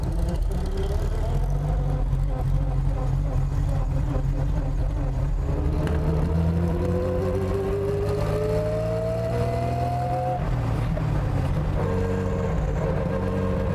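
An early Mercedes-Benz 300 SL Gullwing engine drones steadily under way, its pitch climbing smoothly as it accelerates through the gears, a continuous close mechanical roar with no talk over it.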